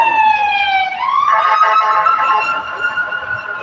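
A loud ambulance siren sweeps and yelps close by on a busy street, its pitch shifting abruptly as it passes, with faint voices underneath.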